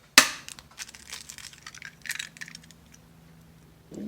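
Egg cracked one-handed into a bowl of chopped goose meat for burgers: one sharp crack near the start, then soft wet squelching and faint shell crinkles, close and quiet with no talk.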